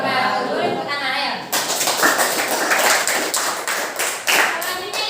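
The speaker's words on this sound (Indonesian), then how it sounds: "Boleh tepuk tangan ayo." A classroom audience breaks into a burst of lively, close applause after a group presentation, following a moment of talk.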